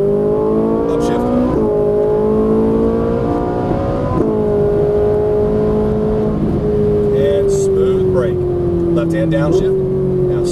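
A Ferrari 458 Italia engine pulls loud and steady on a racetrack, its strong harmonic tone climbing and dipping through throttle changes and gear shifts, with a coach talking over it throughout.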